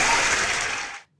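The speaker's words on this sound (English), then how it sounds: "Let me clap for this one." A short burst of dense clapping lasting about a second, loud and close, then stopping abruptly into silence.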